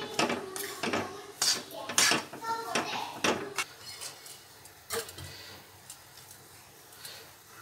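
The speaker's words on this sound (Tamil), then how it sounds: "இந்த ரவையை அதில் கொட்டிக்கலாம் கொட்டி சும்மா லைட்டாக ஒரு கிண்டு கிண்டு வச்சுக்கலாம்" Semolina is poured into a cooking pan and lightly stirred for a sweet laddu recipe, giving clinking, scraping utensil-on-pan sounds in quick bursts that fade toward the end, with a voice talking.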